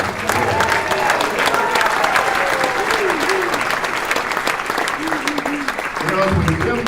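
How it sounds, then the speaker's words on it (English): Sustained applause from the audience at an amateur musical variety revue, loud and dense throughout with cheering and voices mixed in from the crowd. "Give them a huge round of applause."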